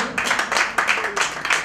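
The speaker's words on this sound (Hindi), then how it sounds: "जोरदार तालियों के साथ इनका स्वागत कीजिए।" Steady applause from an audience welcoming a guest at an evening stage show in Sector 7, Rohini, in 2020, continuous clapping that swells in waves for a couple of seconds, fairly close and moderately loud.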